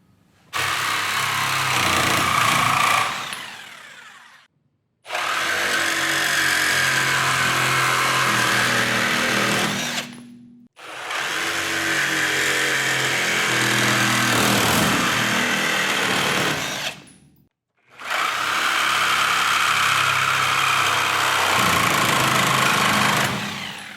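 Four loud bursts from a corded Milwaukee Sawzall reciprocating saw cutting through material, each lasting about five seconds and separated by short silent pauses, with a steady buzzing motor and rattling blade.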